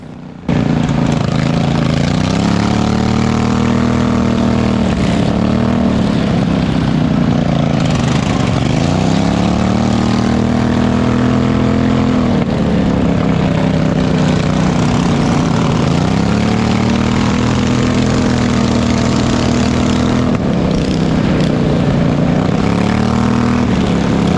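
Racing lawn mower engine at a county fair lawnmower race, loud and close, revving up and down in repeated surges over a constant droning roar.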